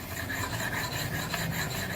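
A Lansky sharpener stone rasps steadily against a garden tool blade, a continuous close gritty scraping with no pauses and no voices.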